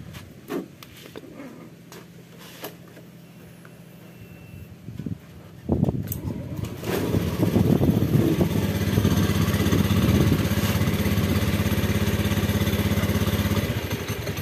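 A Honda Beat CVT scooter sits quiet with a few light clicks before its engine starts near six seconds and settles into a steady, close, buzzing idle that continues to the end.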